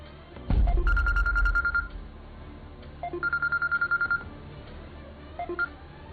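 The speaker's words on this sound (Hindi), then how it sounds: "बाप चला गया तो शबनम ने खामोशी से इरफान को फोन मिला दिया।" A telephone call being placed: a short burst of dialing tones, then two long, evenly spaced ringing tones, close and clear, with a third ring starting at the end.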